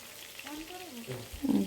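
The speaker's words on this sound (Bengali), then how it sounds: "একটু সময় দিয়ে মাছটা ভালোভাবে ভেজে নেবেন।" A piece of katla fish frying in a pan for curry gives a continuous soft sizzle and crackle, with a faint voice murmuring briefly over it.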